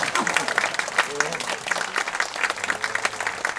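Audience applause at an official agreement signing ceremony in a hall, lively clapping of a moderate crowd heard close, with a voice talking faintly underneath.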